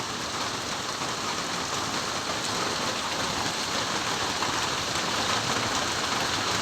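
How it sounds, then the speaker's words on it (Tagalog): Steady, dense rain falling and pattering on surfaces, a constant hiss with no voices, continuous throughout. "Bugnaw ug tinaw ang ulan."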